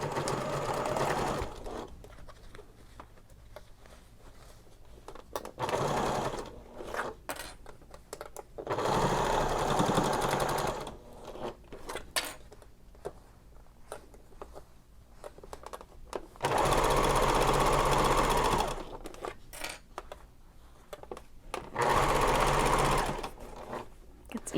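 Sewing machine stitching a vinyl messenger bag past metal rings, running in loud bursts of several seconds separated by quieter pauses with handling noise, close up.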